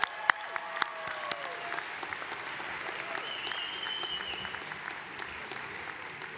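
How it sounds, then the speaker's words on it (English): At a 2023 commencement ceremony, an audience applauds the graduating seniors of the Environmental Resource Engineering Program. Sustained clapping from a large crowd fills the hall at a moderate distance, with a few sharper individual claps standing out. "Let us applaud the accomplishments of the graduating seniors of Environmental Resource Engineering Program."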